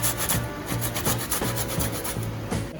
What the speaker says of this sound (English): Let's gonna grate a piece of ginger.